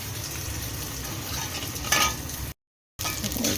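Whole spices, bay leaf and cardamom sizzling in ghee in a wok, a steady close frying hiss with some stirring scrapes and a short sharp burst, then a brief gap before the sizzle returns.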